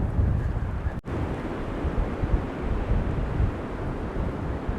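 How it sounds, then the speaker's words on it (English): Gale-force wind from Storm Isha roars through trees near a barn, a loud, continuous rushing with gusty swells and one brief dropout early on. "Nothing quite like the sound of the wind in the trees."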